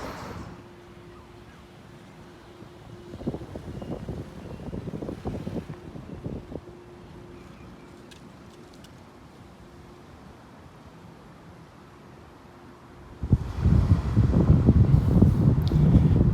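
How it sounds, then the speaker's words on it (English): Gusty outdoor wind buffets the microphone in uneven rumbling bursts, with a quieter lull in the middle before a strong, loud gust at the end. "But it's windy,"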